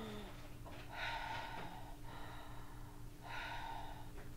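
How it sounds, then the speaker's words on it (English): Two slow deep breaths taken through the nose and mouth, each a soft airy inhale-exhale close to the microphone, spaced a couple of seconds apart in a quiet room. "rule number three is to take a breath"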